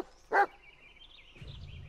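Bullet, a dog in the Blair Witch video game, gives a single short loud bark, then a low rumbling hum follows in the background.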